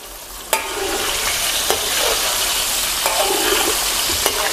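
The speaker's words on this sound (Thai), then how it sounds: "แจ็คจะทอดให้สุกเหลืองกรอบแล้วค่อยตักขึ้นนะครับคอยคนพลิกไปพลิกมาให้เหลืองกรอบเสมอกัน" Tilapia fish fries in hot oil until crisp, a loud continuous sizzle with occasional sharp spatula clacks as the pieces are turned.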